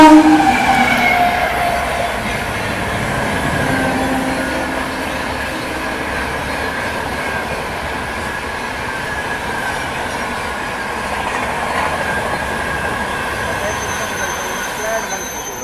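Train 12309 Rajdhani Express, Rajendra Nagar–New Delhi service, approaches and passes at close range with a loud steady rumble and wheel noise on the rails for about fifteen seconds, alone without talk.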